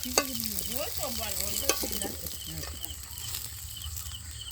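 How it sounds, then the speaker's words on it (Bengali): Fish head frying in oil in a village kitchen, a continuous close sizzle with spatula scrapes and sharp clicks, while someone talks over it. "মাছের মাথাটা ভালো করে ভাজা হয়ে গেছে, তুলে নেব"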